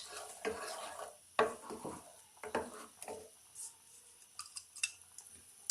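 Garlic and ginger paste stirred into a clay cooking pot for a chana and egg dish, with a spoon scraping and clacking against the pot in irregular strokes over a soft sizzle, close by.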